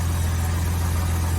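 A 1971 Jaguar XKE with triple SU carburettors and a Borla exhaust idles steadily after a cold start, a smooth, even low rumble running continuously up close with no talk.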